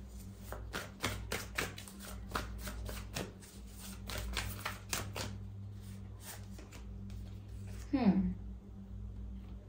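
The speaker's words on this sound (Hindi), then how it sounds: "No, I have to shuffle again." Tarot cards are shuffled by hand in quick, crisp bursts of riffling clicks for about five seconds, then go quiet. A low steady hum runs underneath, and a short sliding tone sounds near the end.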